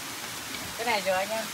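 Rainforest stream in the rainy season splitting into two waterfalls, a steady rushing wash of water close by, with no talk.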